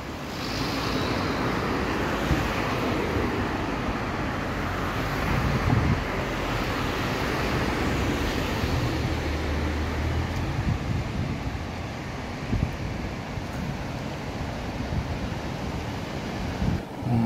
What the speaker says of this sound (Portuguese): Mar bem calminho.